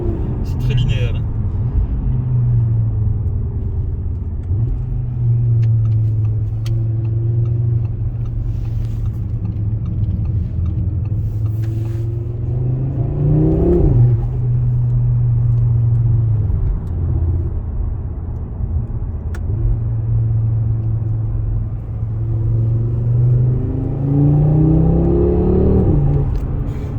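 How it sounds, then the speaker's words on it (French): A new Audi RS3 8Y accelerates hard on the road, its engine a steady loud rumble that rises in pitch through repeated gear pulls, heard from inside the car. "L'accélération dépasse déjà les limitations de vitesse."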